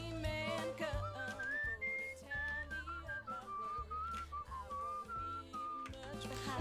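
A character in the video game Where the Water Tastes Like Wine whistles a slow, wandering melody over soft, rhythmic background music. The whistled tune is clear and sits close.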